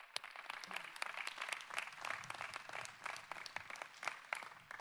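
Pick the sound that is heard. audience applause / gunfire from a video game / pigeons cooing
audience applause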